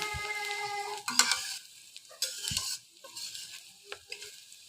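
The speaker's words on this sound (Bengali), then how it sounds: "পেঁয়াজগুলো ভাজা পর্যন্ত আমি অপেক্ষা করব সরিষার তেলে কী যে একটা ঝাঁঝালো ঘ্রাণ আসছে বলে বুঝাতে পারবো না" Onions frying in mustard oil in a pan for a beef bhuna, giving a soft, steady sizzle with a few sharp stirring scrapes and clinks, heard close and alone with no talking.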